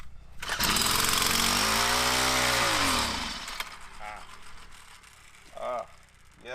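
A small gasoline engine with a gummed-up carburetor sputters to life and roars loudly and close for a few seconds, then its revs drop and it runs unevenly before a brief rise, with a voice reacting near the end.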